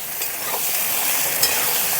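Potatoes and eggplant, with whole cumin, turmeric and salt, fry in a pan with a steady broadband sizzle, a few soft stirring scrapes over it, no voices.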